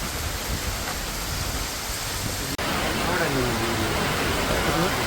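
Steady rain falling in sunshine hisses evenly throughout, a dense wash of falling water with a brief dropout midway.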